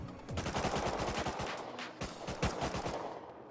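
Rapid sniper rifle gunfire in Rust Console Edition, a loud close burst of repeated sharp shots that pauses briefly and then resumes, with no talking.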